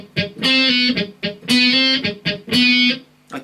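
Electric guitar with a distorted tone plays a riff in three repeated phrases, sustained chords with a hammer-on and pull-off at the end, loud and close with no talk.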